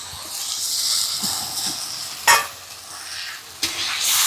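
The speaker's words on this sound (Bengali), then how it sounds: "চিংড়িটাও দিয়ে দিব, এই চিংড়ি মাছ ভাজা আছে।" Fried prawns are stirred into a sizzling jackfruit curry in a home kitchen, giving a steady close frying hiss with a few soft scrapes and clinks of the spoon, and no talk.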